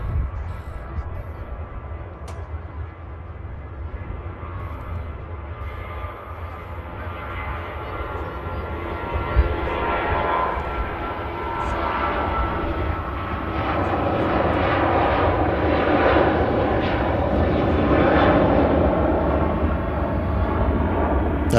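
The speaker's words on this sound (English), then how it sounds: "Airbus A350-900, belonging to German airline Lufthansa, routing from Munich to Jeddah." A Lufthansa Airbus A350-900 jetliner bound from Munich to Jeddah passes over Manchester, its engines a steady low rumble that slowly swells louder and fuller, distant at first and drawing nearer, with no voices.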